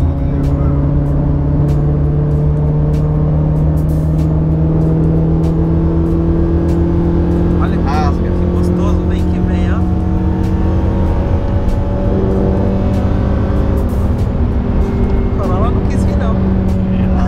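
A Honda Civic Si engine rumbles steadily and revs with a throaty aftermarket exhaust note, close by and loud, with voices faintly under it.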